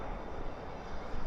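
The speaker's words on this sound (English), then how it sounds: "we have spoilers up, reversers out on that CRJ" A CRJ regional jet rolls out after landing at night at Dallas/Fort Worth International Airport with spoilers up and thrust reversers deployed, a steady loud engine roar heard from a distance without speech.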